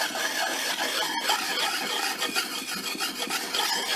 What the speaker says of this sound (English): I take a wet rock. I've got a wet rock here. It has a coarse side and it has a fine side.